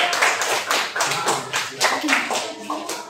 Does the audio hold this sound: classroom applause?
yes